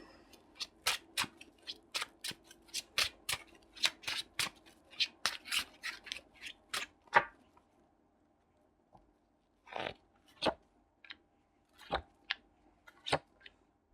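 Rapid series of crisp playing card snaps and riffles, then a pause followed by a few separate flicks, close up with no speech.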